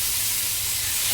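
Tomatoes cook in hot oil in an iron kadhai for masala pav, producing a brief, steady, close hissing sizzle with no pauses.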